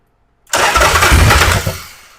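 A motorcycle engine on a cheap knockoff carburetor that is badly calibrated catches abruptly after a moment of silence, roaring loud and close for about a second before its rough note begins to fade.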